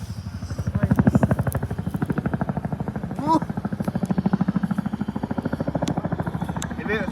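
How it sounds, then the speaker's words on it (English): An RAF Chinook helicopter flies at Bournemouth Airport, its twin rotors giving a steady, rapid, loud thudding beat throughout, with brief voices over it. "I can usually hear this helicopter from miles away."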